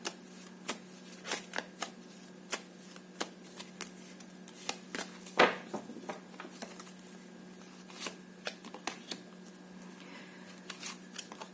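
Cards are shuffled and riffled in quick, soft flicks, a steady patter of light papery snaps with a sharper riffle midway, no one speaking.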